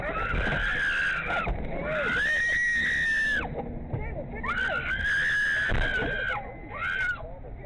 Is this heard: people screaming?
yes